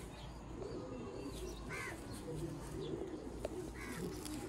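Pigeons coo in a few soft, rolling bursts close by, rare black-faced fancy breeds, with light chirps and a steady background hum between calls.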